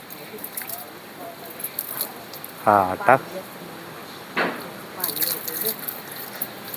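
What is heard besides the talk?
water being poured to water plants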